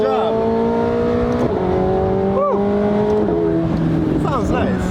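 McLaren 750S supercar engine revving loudly and steadily, the pitch climbing and dropping through several gear-like steps, with a person talking over it.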